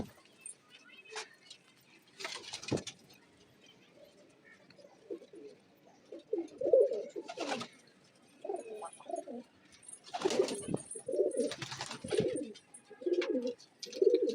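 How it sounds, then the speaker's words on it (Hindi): Racing pigeons cooing in a loft before a morning flight, several soft low coos repeating close by, mixed with scattered wing flutters and rustling, plus a few faint background noises. "तुड़ैया के लिए मैंने अपने कबूतर तैयार कर लिए हैं।"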